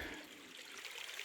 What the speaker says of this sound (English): Water.